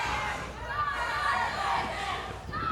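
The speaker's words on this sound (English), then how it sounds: "The crowd here at the backyard clearly behind Tiger Pants." Wrestling crowd at The Backyard in Waco, Texas roaring and shouting in support of a wrestler, a dense, sustained wash of voices with scattered yells.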